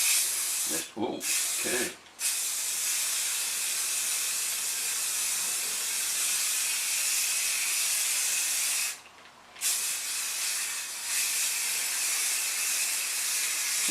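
An aerosol can sprays finish onto a mandolin in a steady, close hiss that runs almost throughout, broken by two quick pauses early on and one longer gap later, with a brief spoken remark in between.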